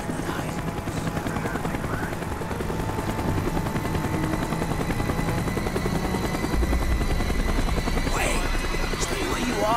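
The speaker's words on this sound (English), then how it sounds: "The chopper is coming around again." A helicopter in the video game Call of Duty Black Ops roars continuously and loudly with rotor chop, mixed with distant gunfire and battle noise while voices speak.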